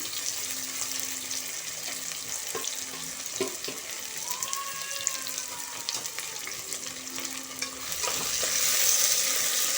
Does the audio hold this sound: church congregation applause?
no